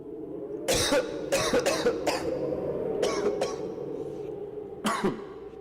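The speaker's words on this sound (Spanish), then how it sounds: "llegó hasta sus pulmones, produciéndole un violento ataque de tos" A man in the snowy cold, choked by sulphur fumes from a burning match, coughs violently in a fit of several harsh, closely spaced bursts with a pause before a final cough.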